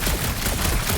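Rapid video game gunfire, a dense, unbroken rattle of overlapping shots at a steady loud level, heard alone without any voices.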